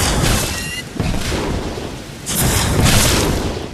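A fire attack hurled at torches in Bioshock Infinite, a roaring whoosh and crackling burst that surges twice, loud and close, rumbling like a storm.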